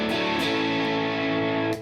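Electric guitar through a saturated tube distortion pedal, a crunchy, not-too-heavy chord ringing loud and sustained before cutting off, with no voices.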